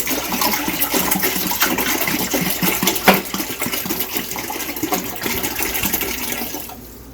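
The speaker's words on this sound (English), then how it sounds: "the rest of our water can go in the pot" Water poured from a container into a cooking pot while making a gallon of raisin wine, a steady splashing, gurgling stream lasting several seconds, close and fairly loud, with one sharper clink midway before it tapers off.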